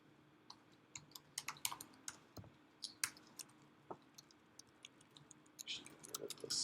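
Code being typed on a computer keyboard during Swift and Apple Watch development: scattered quiet key clicks in irregular bursts, some clustered, with faint low background hum and no voices.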